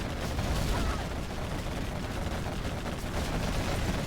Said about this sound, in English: But still, so many quad cannons are left and they are just running through, attacking main supply.